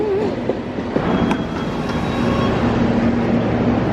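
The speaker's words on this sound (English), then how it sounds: "Here's our train." A London Underground train rumbles loudly into a station, with a steady roar, rail squeal, and occasional clicks as it pulls in close by.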